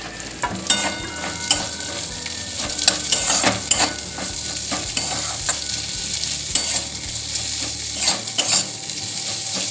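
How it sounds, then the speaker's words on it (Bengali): Onion fries in a pan with a steady sizzle while a utensil stirs it, scraping and knocking against the metal in irregular clatters throughout, close and clear. "পেঁয়াজটা একটু ভাজা ভাজা হোক।"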